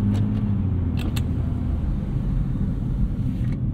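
Mechanical whine and rumble from the six-speed dual-clutch transmission of a 2023 Nissan GT-R Premium while driving, a steady low drone heard from inside the cabin with a few brief clicks near the start.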